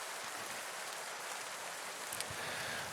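Steady rain falls in American Truck Simulator at four in the morning, a faint, even hiss of drops with no voices, holding unchanged throughout.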